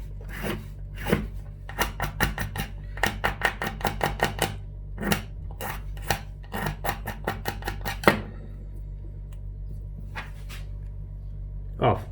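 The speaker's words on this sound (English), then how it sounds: "So I'm just going to give the activation rod a bit of a file." A hand file rasps along the metal activation rod of a homemade 737 engine start switch in quick, rhythmic strokes close to the mic, in bursts separated by short pauses, with low talk at times.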